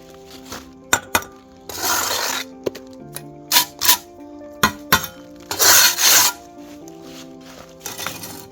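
A steel trowel scrapes and taps against mortar and concrete block while bricklaying to fill in vents, giving sharp close clinks and short gritty scrapes in an irregular rhythm.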